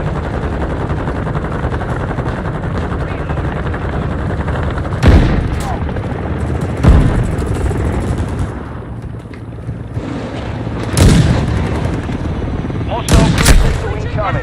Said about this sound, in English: Overwatch Helo in the area.